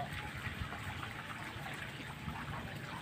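High-tide floodwater in Bulakan, Bulacan swirls and trickles steadily, a faint continuous wash of moving water with no voices.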